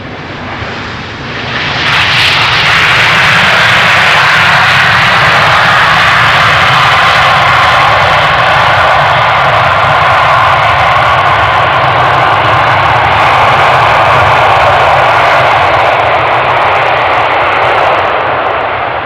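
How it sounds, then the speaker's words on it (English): A fixed-wing airliner landing on runway 27 at Amsterdam Schiphol Airport, its engine roar swelling in loud and close within two seconds, then holding as a steady broad rumble and whine for the rest of the pass. "Very soft and gentle landing."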